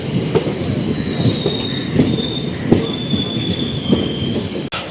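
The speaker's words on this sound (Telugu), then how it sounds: "ప్లాట్ఫామ్ నెంబర్ 1 పైకి అయితే మన ట్రైన్ వచ్చింది." A passenger train switches from the main line to the loop line and pulls in at Vellore Cantonment platform 1, a close steady rumble with rhythmic wheel clacks and thin, high wheel squeals drawn out across it.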